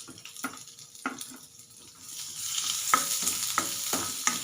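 Garlic hitting hot olive oil for a soup, with sharp scraping strokes of a spoon at first, then the sizzle swells and carries on loudly alongside repeated stirring taps.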